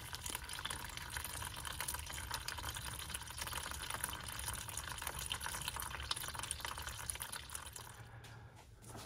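Engine coolant draining from a Dodge Stratus cooling system into a drain pan, a faint, continuous trickle and splash of liquid running steadily for several seconds before briefly thinning near the end.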